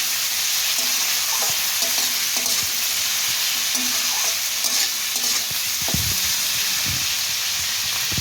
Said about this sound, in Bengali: কাঁচা লঙ্কা কুচি পেঁয়াজ কুচিটা দিয়ে দিয়েছি, আর নাড়াচাড়া করে ভেজে নেব